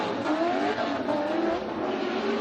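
Roaring engines from drift cars at a Formula Drift event in Orlando, a V8-powered Eurofighter and a 2JZ-engined car of about 1,000 horsepower, blend into a continuous loud, distant-sounding drone with tire squeal.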